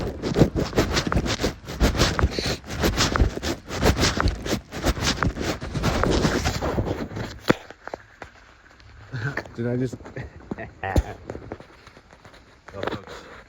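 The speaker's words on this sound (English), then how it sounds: "That was the sound of me putting my paca poncho on my backpack." Rain poncho fabric being pulled over a backpack outdoors: close, loud rustling and scraping for several seconds, then quieter handling sounds as a voice speaks briefly.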